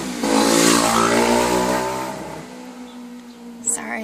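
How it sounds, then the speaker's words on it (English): A motorbike passes close by outdoors, its engine swelling to a loud mid-pitched roar and then fading steadily over a few seconds, followed by a brief faint click. "Sorry, just a motorbike going past."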